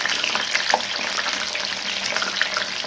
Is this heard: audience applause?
no